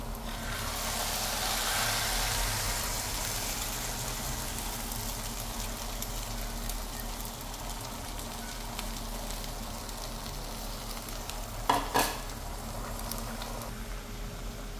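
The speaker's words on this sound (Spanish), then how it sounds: "ya casi están friendo para agregarle el arroz" Beans and eggs fry in a pan for a Nicaraguan breakfast, a steady close hiss and crackle of sizzling oil with a couple of brief scraping clatters from stirring.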